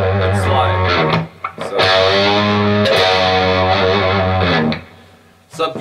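Distorted electric guitar playing short phrases from a song, with notes gliding in pitch as it slides between positions, loud and gritty with brief pauses.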